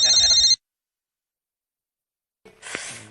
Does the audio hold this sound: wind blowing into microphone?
no